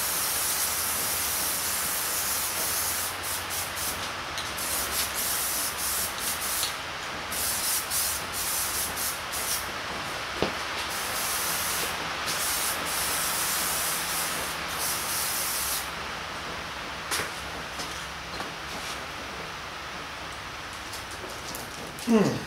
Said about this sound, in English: We're just going to dust it with a little of this Rattle Bomb